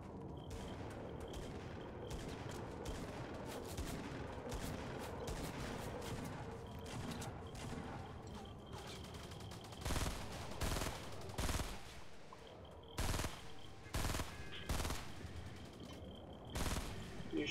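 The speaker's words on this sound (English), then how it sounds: "shooting at me, huh?" Gunfire in Fortnite, a string of sharp shots cracking out mostly in the second half, several single and clustered reports over a busy, moderately quiet game background.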